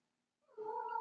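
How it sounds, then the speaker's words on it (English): A pet cat gives one drawn-out meow, fairly faint and close, rising out of near silence and ending in a short click. "that's one of my cats, by the way."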